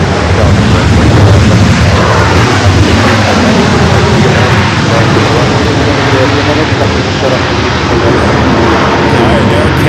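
A jet airliner takes off from runway 24 Left at LAX, its engines holding a loud, broad, steady roar that stays near and constant throughout.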